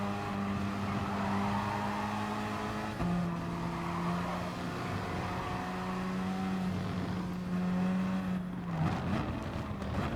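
Gr.4 race car engine droning steadily in Gran Turismo Sport at Dragon Trail Gardens II, holding a loud sustained tone with a gear shift near three seconds and another around nine, no talking over it.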